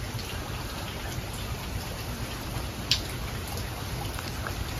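Steady rain falls at the Shimokajiyose campsite in Oita in the early morning, a dense, even hiss with one brief sharper tap partway through, close and constant with no voices.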